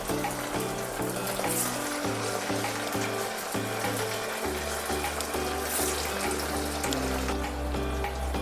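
Semolina medu vada fry in hot oil on a low flame, a steady broadband sizzle and bubbling carrying on throughout beneath background music, with no talking.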